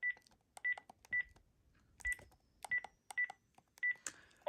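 A Panasonic KX-PRS120 cordless phone base plays a series of about eight short, clear electronic beeps at an uneven pace, loud and close with silence between them.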